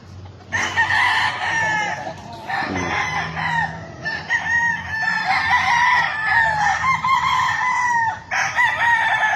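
A local bandit rooster crows loudly and close several times in long drawn calls, with clucking between, on a Philippine backyard farm at evening.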